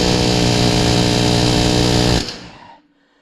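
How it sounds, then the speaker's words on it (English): During a wheel bearing hub replacement, an air hammer rattles hard against a bolt in a loud, rapid continuous burst, then cuts off and the sound fades out quickly. "And you just go ahead with the air hammer,"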